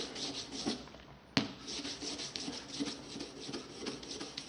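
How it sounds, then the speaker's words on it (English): Firm rubbing of bare copper with abrasive fabric: a steady, close scratchy swishing in repeated strokes, with a brief pause and a sharp scrape near the start. "and then I will give a firm rub with abrasive fabric"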